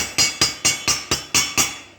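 An old chipping hammer beats flux slag off a flux-core weld on scrap metal: eight sharp metallic strikes in a steady rhythm of about four per second, close and loud, with no talking.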